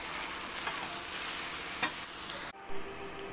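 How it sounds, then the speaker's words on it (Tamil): Onion and flaked fish puttu sautéing in a pan, a steady close sizzle with stirring scrapes that cuts off abruptly near the end, leaving quiet room tone and a brief clink. "இப்போ இந்த புட்டையும் எடுத்து நல்லா கொட்டிடலாம் அவ்வளோதான் இப்போ இதோட வதக்கி விட்டுக்கலாம்"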